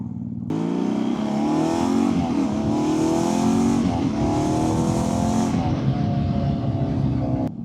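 A BMW R nineT motorcycle with an Akrapovic exhaust, valve closed, gives a loud, raspy engine note that climbs and falls through the gears while riding, steady and close throughout.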